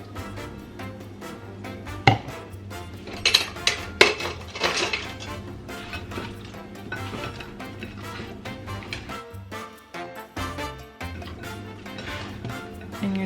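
A utensil clinks and scrapes quickly against a dish, stirring a wing sauce of vinegar and butter close up, with occasional louder knocks and a brief pause, and no talking.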